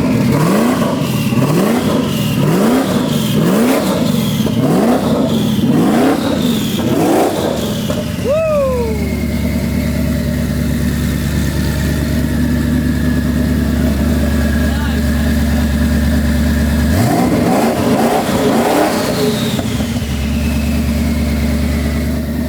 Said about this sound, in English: I waited to hear this turbo